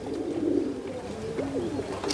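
Kaldume pigeons from Sambhal coo softly nearby in a loose series of low, rolling calls over a faint outdoor background.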